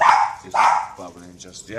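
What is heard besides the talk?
dog barking at the postman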